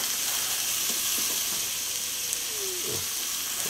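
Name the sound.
stir-frying barbecue pork in a frying pan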